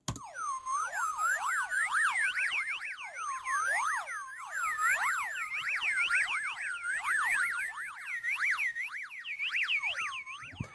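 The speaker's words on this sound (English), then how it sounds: "he's using a lot of modulations for the radio sound effects" Synthesized radio-style sound effect built from heavy modulation: rapidly swooping, warbling tones sweep up and down continuously like a wobbling siren, steady and moderately quiet throughout.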